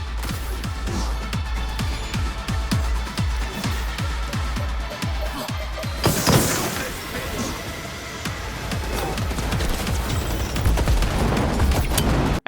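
Escape music from the video game Cyberpunk 2077, played while fleeing a stadium: a driving electronic track with regular punchy bass hits for the first half, then a swell into a dense, loud, continuous wash of synths and percussion.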